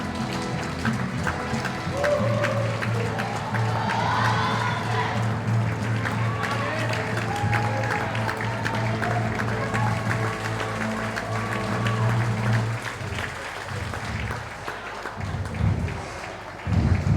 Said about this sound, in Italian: facciamo un grande applauso alle ragazze del Divina Volley Carinatese